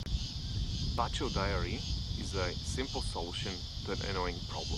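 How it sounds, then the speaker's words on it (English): Mating cicadas in a park keep up a constant high, droning buzz that sits under a person talking close to the microphone the whole time. "You can hear the mating cicadas in the background."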